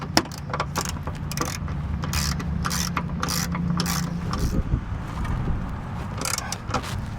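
A ratchet wrench tightens locking nuts on the rear sway bar of a Honda Civic, giving steady close metallic clicking and gear-like ratcheting in repeated strokes over several seconds, with a low hum under it.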